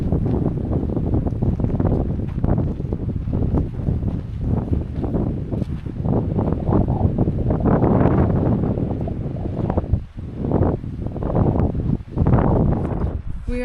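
Cold wind buffeting the microphone on the Timberline Trail around Mt. Hood, a loud rumbling roar that surges and dips continuously, briefly easing around the tenth second before gusting again.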